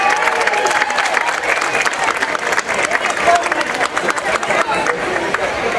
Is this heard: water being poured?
no